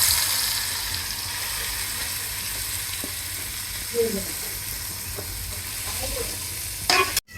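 Kesky fish frying in hot oil, a steady close sizzle with occasional stirring clinks and scrapes from the pan.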